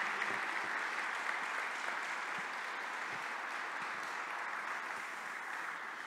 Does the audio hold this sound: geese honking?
no